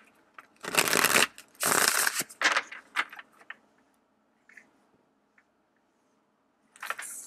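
Tarot cards being shuffled up close, in two long riffling bursts followed by shorter flicks and taps, then a pause and one more brief shuffle at the end.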